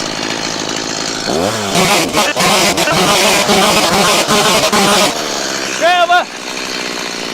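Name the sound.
power saw cutting timber for garden room base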